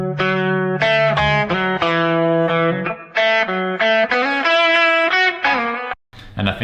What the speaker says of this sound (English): also obviously you can isolate the guitar itself, so then it will sound like this.